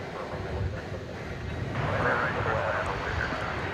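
An airplane taxis across the runways at DFW Airport at night, a steady, distant engine roar blended with wind noise that swells slightly midway and holds.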